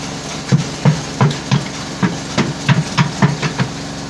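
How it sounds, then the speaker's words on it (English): A sharp cutter machine on a pig farm making a run of rhythmic, evenly spaced thumps and knocks over a low mechanical hum, about ten impacts in quick succession. "that's the noise of the sharp cutter"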